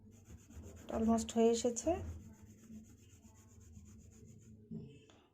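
Nutmeg is rubbed round and round against a hard surface into a paste, giving a close, gritty scraping for about a second before softer rubbing continues, and a person speaks briefly near the end.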